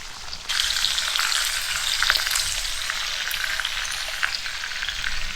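Breakfast frying on a camp stove at a red-rock campsite, a steady close sizzle with crackling pops that starts abruptly after a brief quiet moment and holds for several seconds with no talking.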